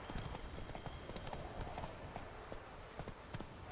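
Horse hooves clip-clopping in The Witcher 3, a quiet, steady walking rhythm mixed into a soft outdoor ambience.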